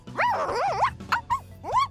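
Poppi, a robotic character in dog mode in Xenoblade Chronicles 2, gives a string of bright, yipping bark-like cries, a long warbling one followed by three short sharp ones, loud and close with no talking.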